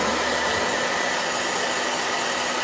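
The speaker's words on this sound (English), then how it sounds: "Let me blow dry it." A handheld blow dryer running steadily on hair, a close, constant airy roar with a faint hum, unbroken for the whole stretch and with no talking.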